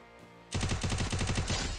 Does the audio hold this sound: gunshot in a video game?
yes